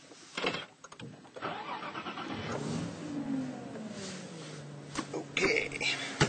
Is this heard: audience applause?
no